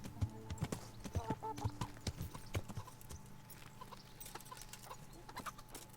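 Horse hooves clop in a quick rhythmic run in the medieval video game Kingdom Come, fairly faint, with evenly spaced hoofbeats that thin out partway through as ambient game sounds continue.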